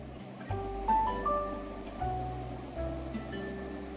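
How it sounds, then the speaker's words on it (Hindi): The Saryu river flows below an ancient Shiva temple on its bank, giving a steady, broad rush of moving water with a few faint tonal sounds drifting over it. "इसी के नीचे से बह रही है सरयू नदी"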